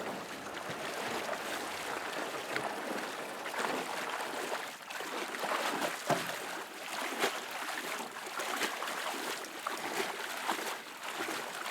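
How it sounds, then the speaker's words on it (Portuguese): Water sloshes and trickles steadily as a boat is dragged through water about a hand's depth, faint and continuous with small splashes. "Eu vou puxando o barco até ele encontrar a profundidade para o motor poder funcionar."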